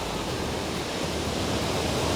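Sea waves at a beach in Rio de Janeiro, a dense, steady wash of surf noise filling the whole moment without distinct breaks, fairly loud and with no voices.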